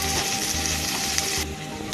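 Green garlic and ginger sizzle steadily in hot oil in a pan, a dense, close crackling hiss that holds for a couple of seconds before easing slightly.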